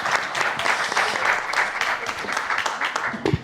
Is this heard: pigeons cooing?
no